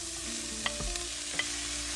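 Salmon pieces dropped into a pot of frying onions for salmon fried rice, a steady sizzle with a few sharp clinks and a low thud as the fish goes in, close and moderately loud with no talk.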